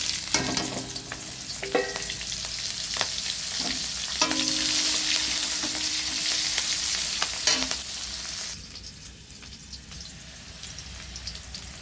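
Green chillies and onion fry in a hot pan with a dense, steady sizzle, broken by occasional clinks from stirring. The sizzle thins out and quiets over the last few seconds.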